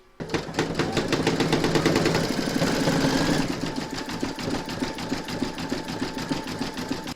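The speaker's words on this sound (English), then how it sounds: "you're going to stitch round number 8, which is going to do the satin stitch around the edge" An embroidery sewing machine stitches a satin-stitch border in the hoop on a stacked snowman design, giving a fast, loud, regular mechanical chatter that shifts pace midway and runs on steadily.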